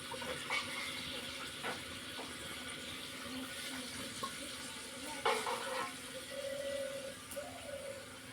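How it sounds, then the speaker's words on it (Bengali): Water poured into meat frying in a pan, the steady sizzle briefly flaring and bubbling as liquid hits the hot fat, close up and without speech. "এখন একটু জল দিই।"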